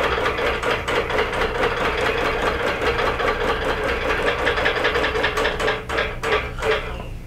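A sewing machine bastes a quilt with soluble thread in a fast, even mechanical clatter, close and steady, before slowing and stopping just before the end.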